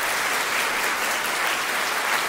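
A hall audience applauds award recipients at a study award ceremony, with a dense, steady wash of clapping from many hands throughout, loud and unbroken, with no voices over it.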